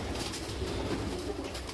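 Pigeons coo in a pigeon loft in the morning, a close, continuous low burbling with overlapping calls against steady background noise.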